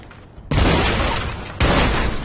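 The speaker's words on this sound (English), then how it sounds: "That was the most boring barrel explosion in any video game ever." A barrel explodes in the video game Alpha Protocol, a flat dull blast followed by a second burst of similar noise, loud and close with no voices.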